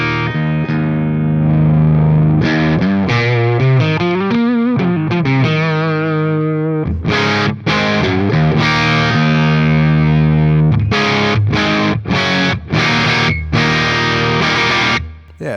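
High-gain electric guitar on the bridge humbucker through a Synergy TDLX module in a Syn20IR, loud and distorted, with sustained bent notes and a vibrato lead line followed by choppy staccato chords, played alone with no talk.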